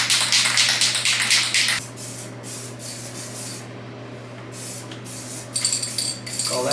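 A spray can lays black chassis paint onto bare steel in close, loud hissing bursts, the first one long and followed by shorter ones, over a low steady hum, with no talking.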